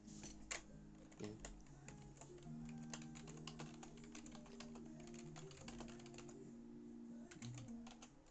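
Typing on a computer keyboard, a continuous patter of quick key clicks with steady low hum and tones underneath, fairly quiet and close.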